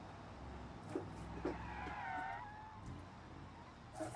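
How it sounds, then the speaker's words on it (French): Game car in BeamNG.Drive sliding through a drift, with tire screech rising in the middle over a steady engine drone, plus a few short knocks, all at moderate level. "Petit drift, tranquille."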